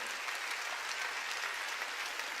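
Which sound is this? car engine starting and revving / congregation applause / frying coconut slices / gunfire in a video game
congregation applause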